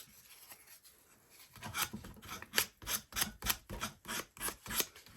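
Rhythmic rasping strokes of fine 1000-grit wet/dry sandpaper rubbing back and forth, about eight even passes after a quiet start, close up.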